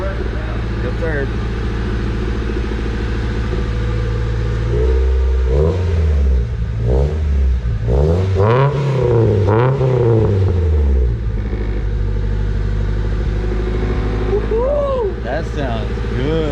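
A Honda Civic coupe with a freshly fitted exhaust idles with a deep steady drone, then revs up through a couple of rising and falling pulls before settling, loud and close, with people talking over it.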